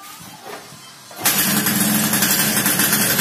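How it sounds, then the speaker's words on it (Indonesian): A Suzuki Satria 120 motorcycle fires up after a quiet moment, then a loud, raspy, crackling exhaust idle carries on steadily up close. "kok nalpotnya kayak gitu bunyinya, Nuk?"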